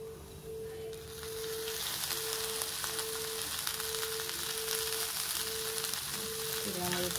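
Okra frying in added oil, giving a steady loud sizzle throughout, with a faint tonal hum in the background.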